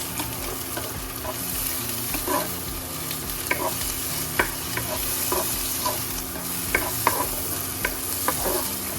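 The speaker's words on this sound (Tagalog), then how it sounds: "So let's start by heating the olive oil in the pan. Then add the garlic, spring onions, and onions." Garlic, spring onions and onions stir-frying in olive oil in a pan: a steady bright sizzle with frequent clattering stirs and scrapes, close up, with no voices.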